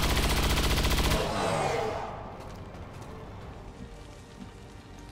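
Rapid automatic gunfire in the XCOM 2 video game, a dense loud burst of shots lasting about a second, then tailing off into scattered crackles and debris.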